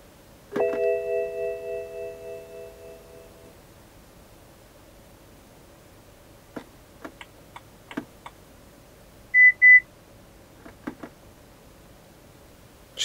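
A multi-tone chime gong of a BMW E90/E60/E70 rings and fades, then quiet clicking ticks of the turn signal follow, with a brief beeping alert between them.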